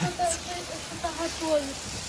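Heavy rain pouring down just outside a patio door, a steady broad hiss of water close by, with someone speaking briefly over it.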